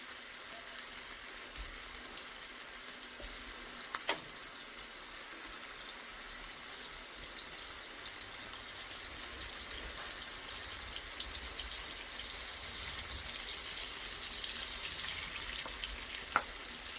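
Butter melting in a pan as a ground beef Spanish rice casserole gets started, giving a faint, steady low sizzle and crackle with a couple of light clicks, no voices.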